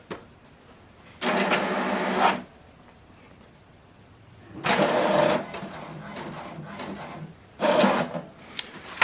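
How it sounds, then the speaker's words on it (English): An HP Deskjet 2820e printer runs through a page in three mechanical bursts, the first two about a second long and the last shorter. Each burst is a whirring, rattling feed and carriage noise, with quiet gaps between them and no talk. "From the laptop, select continue to print the second page."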